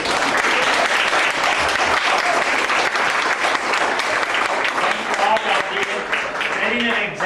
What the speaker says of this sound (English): I'd like a round of applause for 2014 staff.